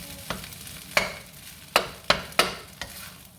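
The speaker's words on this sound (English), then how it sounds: "Give it a nice stir." Vegetable fried rice with egg is stirred in a pan over a soft background sizzle, with five distinct scraping strokes of the utensil spaced unevenly.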